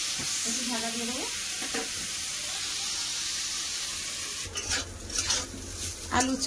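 Potato and bitter gourd fry in hot mustard oil in a pan, giving a close, steady sizzling hiss. Clattering scrapes of stirring break in near the end.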